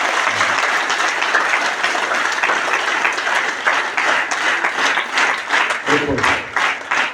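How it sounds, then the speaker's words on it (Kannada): A school assembly audience breaks into loud, sustained applause, a dense wash of many hands clapping close by for several seconds, with a voice briefly audible near the end. "ಅವ್ರಿಗೊಂದ್ಸರಿ ಎಲ್ಲರೂ ಜೋರಾಗಿ ಚಪ್ಪಾಳೆ ತಟ್ಟಿ."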